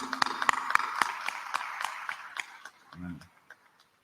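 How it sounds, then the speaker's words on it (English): At a plenary session of a health conference, an audience gives a brief round of clapping, distinct sharp claps that thin out and fade, with a short voice near the end. "Applaudissez quand même"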